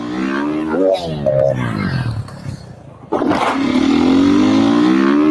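A motorcycle engine revving loudly, its pitch climbing in sweeps, dipping briefly, then roaring back up to a sustained high whine.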